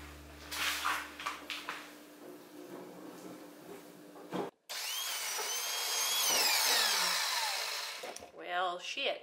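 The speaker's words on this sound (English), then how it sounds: "It's a very heavy drill." A heavy power drill bores into wood inside a cabinet during plumbing work, sounding as a loud, sustained high whine after a brief pause, then rough bursts at the end, with people talking in the first half.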